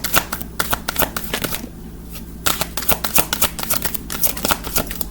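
Queen of the Moon Oracle cards being shuffled by hand, a rapid run of crisp riffling flicks in bursts with a brief pause midway, close and loud, with no talking.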